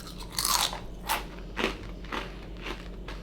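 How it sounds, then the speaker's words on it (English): Close, loud crunching of extra crunchy bold cheddar Cheez-It crackers, with about five sharp bites and chews spaced roughly half a second apart, with no talk. "they're so crunch. Let me give you a little ASMR."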